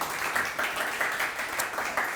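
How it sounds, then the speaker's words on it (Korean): A seminar audience at a startup business-plan lecture claps together, a steady wash of moderate hand-clapping with slight swells and no voices over it. "박수 한번 쳐봐요"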